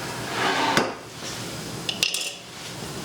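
Crushed tomatoes go into a pot on the stove for marinara, marked by a few sharp metallic clanks of can and pot against a soft, steady background hiss.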